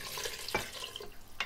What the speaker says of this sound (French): On remue bien comme il faut.